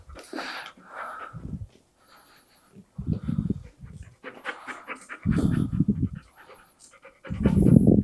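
A six-month-old pet dog pants during leash training, with rapid breathy bursts in uneven clusters separated by short pauses, close and fairly loud.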